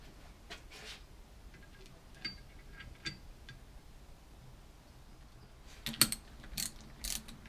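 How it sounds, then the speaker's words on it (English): Ratchet wrench snugging 7/16 ring gear bolts on a Ford 9 inch differential, heard as faint, scattered clicking bursts in a quiet workshop, with a sharper cluster of ratcheting near the end. "we'll snug these together, and I'll get them torqued to 65 foot-pounds because these are 7/16 ring gear bolts"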